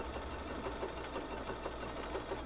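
Sewing machine stitching a wiggly line on women's underwear, a fast steady mechanical whir and rattle up close, running without a break.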